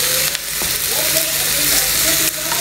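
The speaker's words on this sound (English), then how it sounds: "And cook for about 5 minutes until the sausage has" Sausages frying in a pan while making quiche Lorraine: a steady loud sizzle and crackle with a few stirring clinks of a utensil, and no talk.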